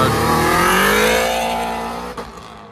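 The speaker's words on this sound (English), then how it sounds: "Got a Mini Cooper S." A supercharged Mini Cooper S accelerates hard at a Japanese car meet, its engine note rising loudly and steadily before fading as it pulls away.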